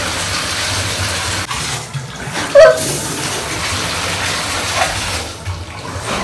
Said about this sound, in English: now we can finally turn the water on